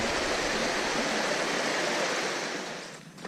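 Water rushing over rocks along a rocky little creek track on a mountain walk, a dense, steady broadband rush that stays close and continuous before thinning slightly near the end, with no talking.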